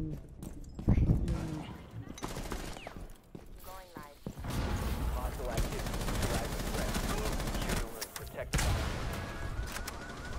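Gunfire in the video game Rainbow Six Siege, with bursts of shots and impacts mixed with other game sounds and a voice talking, fairly loud throughout.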